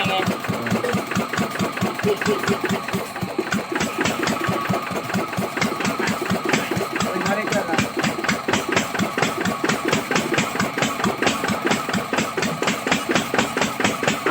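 A car engine idling steadily after repair, close up, with a fast regular chugging pulse throughout and no talk.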